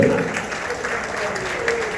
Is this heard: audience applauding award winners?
yes